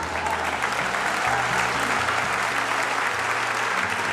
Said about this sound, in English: you can clap for that, the unnamed movement